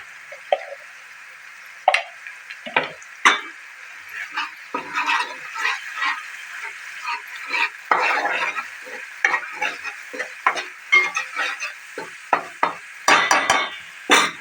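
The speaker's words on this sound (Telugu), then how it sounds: "ఇది మంచిగా గోలాలి, పచ్చివాసన పోవాలి." Ginger paste and turmeric masala frying in oil for Telangana mutton curry, loud crackling sizzle with frequent scraping stirs and spoon knocks in an irregular rhythm.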